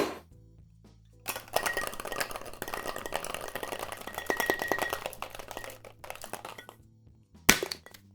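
A cocktail being shaken hard with ice in a shaker, a dense, steady rattle and clatter of ice lasting several seconds, then stopping, followed by one sharp clink near the end.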